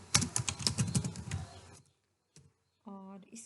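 Rapid clicking keystrokes on a computer keyboard while working in Overleaf, a quick close-up burst of typing followed by silence and a few faint clicks, with someone speaking nearby.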